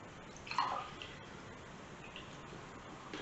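Water trickles and splashes faintly into a drinking glass, a brief pouring burst near the start followed by soft drips and gurgles, quiet and close.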